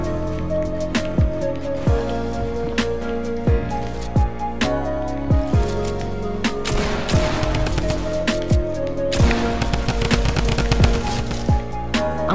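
Shotgun fire in a fast-paced video game, a rapid string of sharp blasts at irregular intervals with dense bursts of overlapping shots midway, loud and close, with no talk.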